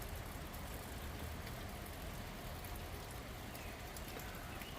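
Steady rain falls on a garden planted with pine trees beside a container farm hut, making a dense, even patter that continues without a break, with a faint low rumble underneath.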